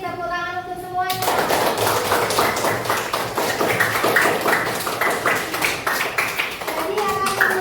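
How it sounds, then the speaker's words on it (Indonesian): Brisk, sustained clapping from a class of students in an Arabic language lesson, starting abruptly after a voice speaks, then tapering as talking returns near the end. "tepuk tangan untuk semuanya."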